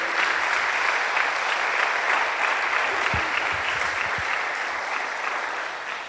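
A church congregation applauds during a sermon, a dense, even wash of clapping that continues steadily throughout and fades slightly near the end.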